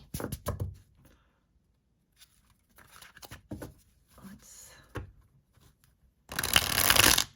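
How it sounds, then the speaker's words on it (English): Scattered tarot card handling and light taps, ending with a loud, dense riffle shuffle up close. "That's a very satisfying shuffle, isn't it?"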